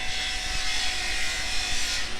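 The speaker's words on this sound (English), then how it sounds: "A little bit of drilling going on." Steady, continuous grinding drill noise from hotel construction works, heard up close and loud with no pauses in its brief span, amid a resort outdoors.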